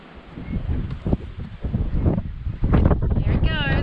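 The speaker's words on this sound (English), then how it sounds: "Wait for the wind." Gusty wind buffeting the microphone aboard a boat on the water, rising and falling in bursts, with a person talking intermittently under the rumble.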